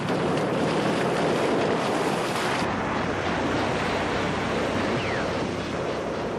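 Amphibious landing boats crossing coral reefs toward a coast on a rising tide during World War II in the Pacific, heard as steady, loud surf and water wash with wind buffeting, continuous and close throughout.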